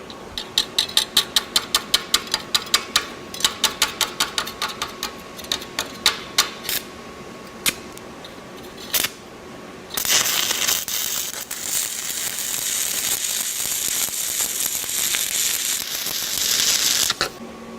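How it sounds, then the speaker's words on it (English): A Vulcan ProTIG welder stick-welding with a 1/8 inch 7018 electrode gives a run of sharp clicks and ticks, then a loud, steady crackling hiss of the arc, close up and with no talking. "I'm very pleasantly surprised by the way that this little machine will stick weld, at least with 1/8" 7018"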